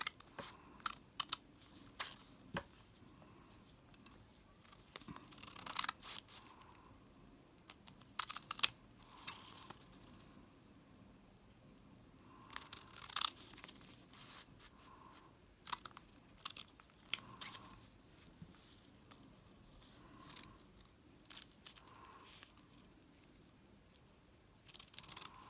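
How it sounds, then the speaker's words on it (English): Scissors snipping through paper while cutting flower shapes for a birthday craft, a run of short crisp cuts and crunches in bursts, close and fairly faint, with light background noise between them. "you're going to cut up to that line"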